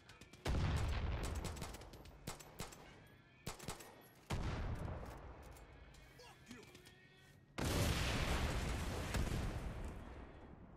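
Gunfire and dynamite explosions hit a tank in the video game Far Cry 6: three loud, booming blasts with bursts of shots and rumbling debris in between, while players talk.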